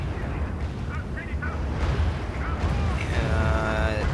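Artillery bombardment in the R.U.S.E. strategy game rumbles as a dense, continuous wash of low booms and distant blasts, with someone talking over the barrage.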